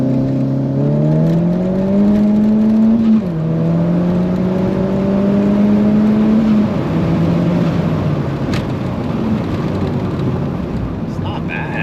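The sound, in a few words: boosted car accelerating hard at 4,000 RPM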